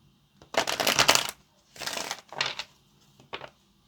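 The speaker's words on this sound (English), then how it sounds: "let's get this last shuffle" Tarot cards are shuffled by hand in several quick riffling bursts, one long and three shorter, close and crisp against a quiet room.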